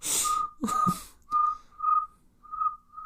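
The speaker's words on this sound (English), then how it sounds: "an inhale whistle" Someone whistling while breathing in, producing a few short, thin, steady-pitched whistle notes separated by pauses, close up, with a couple of breathy sounds before them.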